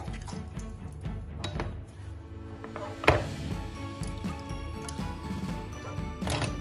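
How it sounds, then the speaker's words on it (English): A knife cuts slits into a cleaned pomfret fish on a board, giving repeated close thuds and scraping taps with one sharp louder knock midway. "I'm going to do a small slit, so when I apply all the masalas, it can go in here"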